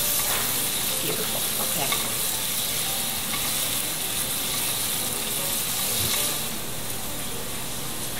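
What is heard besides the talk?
pancetta sizzling in a pan with onion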